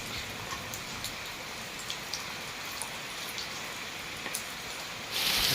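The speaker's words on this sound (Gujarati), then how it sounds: "અત્યારે 9:30 વાગ્યા છે સવારના અને હજી પણ વરસાદ બંધ થવાનું નામ નથી લેતો." Heavy morning rain pours steadily over farm fields, making a soft, even hiss dotted with sharp drip ticks, with a brief louder surge at the very end.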